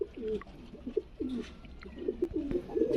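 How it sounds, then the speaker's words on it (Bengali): Pigeons coo in repeated low, throaty bursts close by, a steady rolling pattern with no talk over it. "একটা অন্ধ পায়রা অন্ধ্রা ফুলশিরা হালকা ফুলশিরা আছে"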